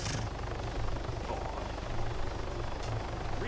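A helicopter flies in the ARMA 3 Altis Life game, its steady rotor thrum and low engine drone holding loud and even throughout with no talk over it.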